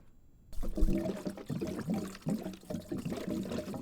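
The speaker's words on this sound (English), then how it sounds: "You can pour or siphon." Liquid pouring in the video game Arctic Drive, likely into a pickup truck's radiator: a steady glugging, gurgling flow with rhythmic pulses, fairly close and continuous once it starts.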